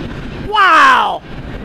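A CN freight train, M347 "The Rattler," passes in Ladysmith with one loud horn blast that swells and falls in pitch as it goes by, over a low rolling rumble.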